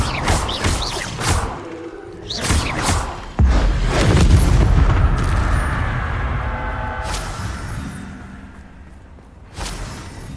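A Bombarda spell explosion from Hogwarts Legacy lands as a deep booming blast with a rumbling, whooshing tail, following several earlier spell-casting swooshes and thumps.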